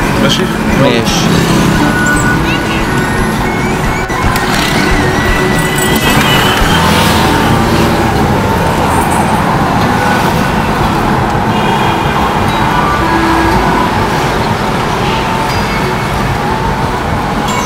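Cars roaring along during a chase, a steady loud wash of engine and road noise that runs the whole time, with voices mixed in underneath.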